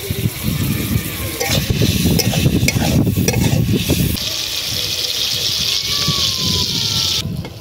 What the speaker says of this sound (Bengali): তেল গরম হয়ে গেছে, চিংড়িগুলো দিয়ে দিচ্ছি